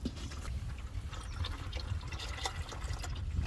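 Engine oil drains from a 2012-2018 Jeep Wrangler JK into a drain pan below, a steady close trickling pour that runs without a break.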